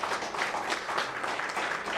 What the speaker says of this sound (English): Let us welcome them with a warm round of applause